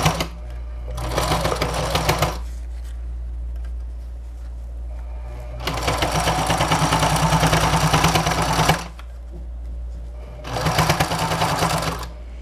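A sewing machine stitches bias binding onto a patchwork makeup bag, running in three loud bursts of rapid needle whirring, separated by quiet pauses with a low hum underneath.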